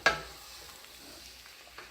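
A spoon stirring chicken curry in a pot, with a sharp scrape at the start followed by quiet sizzling and soft stirring sounds, close and low in level.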